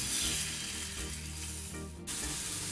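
Puti fish seasoned with salt and turmeric hit hot mustard oil with a loud, continuous close-up sizzle and crackle, with a low hum underneath and a short dip before the frying surges again.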